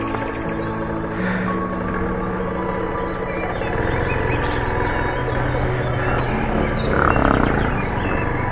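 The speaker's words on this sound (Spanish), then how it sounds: "En este sector, aquí por este lado, es que se encuentra el mono aullador." Howler monkeys call in a deep, sustained roaring chorus in a forest area along the Otún–Quimbaya route, heavy and continuous in the distance, with faint bird chirps above.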